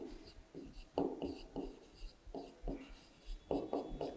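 A pen writing by hand during a primary-school maths lesson on subtraction, soft scratchy strokes coming in short irregular bursts, close and quiet, with no one speaking.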